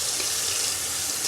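Hot tap water streams steadily into a sink as canning jars are washed with soap, a loud continuous close-up splashing hiss with no talking.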